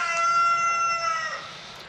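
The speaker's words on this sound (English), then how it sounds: "the wonderful chicken heard me. Gotta love that chicken." A chicken crowing outdoors near a rock-polishing setup, one long, tonal, drawn-out call that fades at the end, fairly loud and close.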